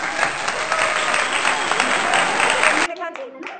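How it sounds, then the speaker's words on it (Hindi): Children clap their hands together in a dense, steady round of applause that fills most of the moment, then breaks off abruptly into quieter scattered sounds. "ताली मार के दो"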